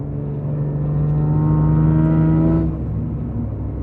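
A Nissan Z sports car with a loud aftermarket exhaust drives by, its exhaust drone rising in pitch and loudness before settling, heard close and alone.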